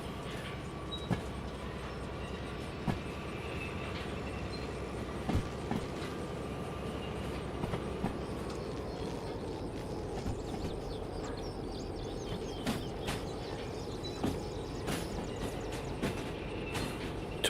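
A train rolling along in the Derail Valley video game, a steady low rumble under regular clicks from the track joints, with a faint tone sliding downward partway through.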